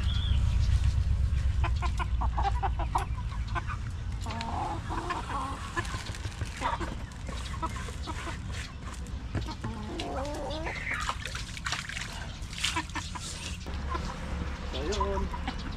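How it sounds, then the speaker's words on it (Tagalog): Chickens cluck in a backyard garden. The scattered calls sit under people talking nearby and a constant low rumble. "mga manok sa kabila"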